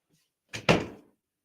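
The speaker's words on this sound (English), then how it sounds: "Let me close this door." Door swung shut at close range indoors, a soft contact followed by a firm thud with a short rattle fading out, alone with no voices.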